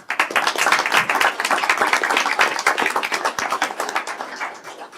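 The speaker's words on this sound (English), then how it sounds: "If we could please give those students a round of applause." Applause for students at a school board of education meeting: many hands clapping together in a dense, steady round that fills the room and tapers slightly toward the end, with no voices over it.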